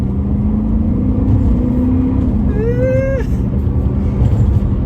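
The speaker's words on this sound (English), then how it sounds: "I'm gonna floor it here." A Bentley Turbo R saloon with a turbocharged engine accelerates at full throttle, giving a loud, steady engine roar inside the cabin. A droning note climbs slowly, then a higher whine sweeps upward and cuts off.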